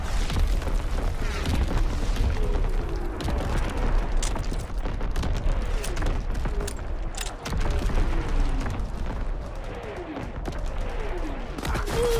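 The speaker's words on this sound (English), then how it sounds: "Incoming enemy artillery." Incoming enemy artillery in a WW2 video game: continuous heavy booming explosions and rumbling blasts, with whistling shells dropping in pitch, loud and dense throughout with no pauses.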